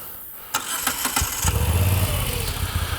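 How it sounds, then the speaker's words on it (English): A Moto Guzzi V7 V-twin motorcycle with dual exhaust cranks briefly, then fires up and settles into a loud, close, throbbing idle. "Typical V-twin sound,"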